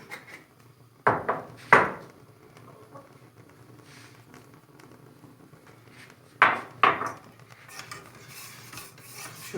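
A spoon rasps and scrapes against a pot in a few short bursts while Turkish coffee is spooned in and stirred, the sounds close and separated by quiet pauses.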